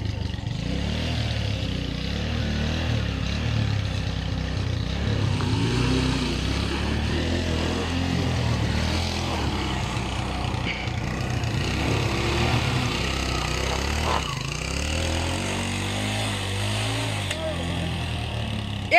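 Motorcycles ridden along a road, with a steady, loud engine drone and rumble running throughout, rising and falling slightly as the bikes move, and people talking over it.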